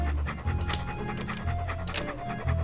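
A dog pants in the Monkey Island 2 video game, quick rhythmic breaths that repeat steadily and close up over a low game background, with no talking.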